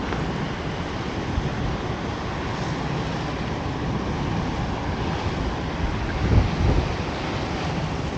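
Storm Ciaran drives wind and surf against the Guernsey coast, a loud, dense rush of buffeting gusts and breaking waves filling the whole stretch, with a heavier surge near the end.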